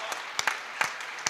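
Applause from an audience at a Hindi poetry recital (kavi sammelan) held at a school, heard as a steady hiss of many hands with a few sharper claps standing out, moderately loud and close.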